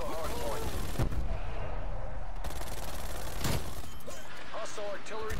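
Artillery strike in Black Ops Cold War: two sharp booming impacts land around one and three and a half seconds, over continuous dense battle rumble, with voice lines spoken throughout.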